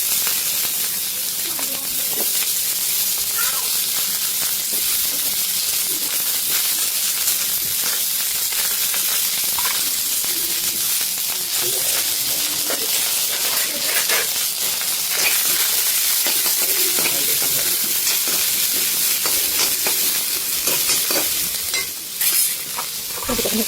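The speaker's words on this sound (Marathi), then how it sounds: "तापत ठेवलेल्या कढईमध्ये" Onion roasts in a hot kadhai as the base for a brinjal curry, giving a continuous even sizzle and hiss with occasional stirring scrapes, close by and steady.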